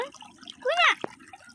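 Brief splashing and trickling of water as a small child dips and washes her feet in it, a quick burst of liquid sound followed by a single soft drip, close and fairly quiet.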